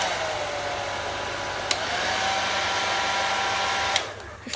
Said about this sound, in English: when you put it to medium heat, puts it down, puts the speed down.